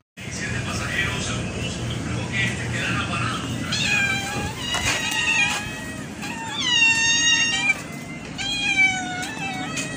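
Hungry cats meowing for food, several loud, drawn-out meows in quick succession, some overlapping, over a low background rumble, growing more insistent toward the end.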